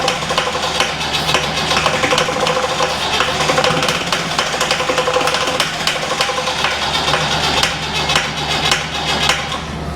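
An old Land Rover diesel engine runs with a rod knock, a close, loud, steady clattering idle with a regular metallic ticking throughout.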